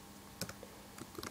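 A few quiet computer keyboard keystrokes, typing in a search box on a Windows PC, come as scattered soft clicks in two short bursts with gaps between.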